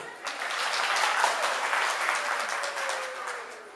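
An audience at a Udichi School cultural event in New York applauds: steady, full clapping that swells quickly and holds for several seconds before easing slightly.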